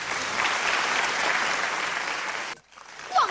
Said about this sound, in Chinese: 我们用最热烈的掌声欢迎他